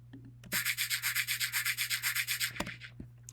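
Bubble wrap shaker sample processed with effects, giving a thin, bright, hissy run of rapid even pulses lasting about two seconds, followed by a few isolated taps.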